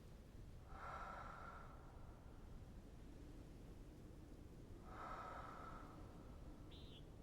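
In the Alan Wake video game, a hidden message being illuminated gives off a soft breathing-like rush. It comes twice as a breathy swell of about a second each, several seconds apart, over a quiet noisy background with a faint chirp at the end.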